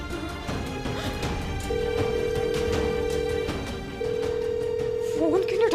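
A telephone rings on and on without being answered, its steady electronic tone sounding in long sustained bursts amid background noise and thumps in a busy household.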